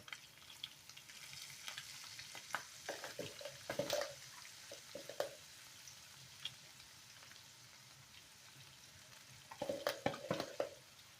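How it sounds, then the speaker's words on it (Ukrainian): Low sizzling as flour fries with meat in a pan, with scattered stirring scrapes and clatters, louder around a few moments, no talking. "Щоб разом співсмажилась та мука разом ще з тим місцем."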